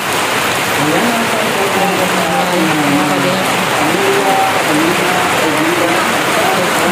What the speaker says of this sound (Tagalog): Ang buhos po ng ulan dito kaya biglaan.